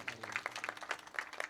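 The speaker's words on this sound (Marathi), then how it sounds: "एकदा जोरदार त्यांच्यासाठी टाळी वाजवा" Audience clapping at a kirtan devotional gathering, a faint, brief patter of scattered hand claps from a distant crowd.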